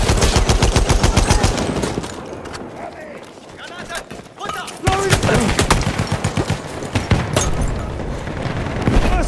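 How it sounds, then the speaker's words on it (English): Battlefield 1 machine gun fire rattles in loud, rapid bursts with short pauses, mixed with booms and battlefield noise, while voices shout over the din. "Machine gun, look sideways!"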